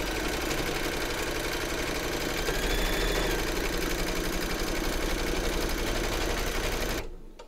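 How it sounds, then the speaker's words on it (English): Embroidery sewing machine stitching fabric in a hoop, a fast steady mechanical whirr with a fine rhythmic needle patter, close and loud until it stops abruptly near the end. "Pop your hoop into your machine and stitch round number three to secure it."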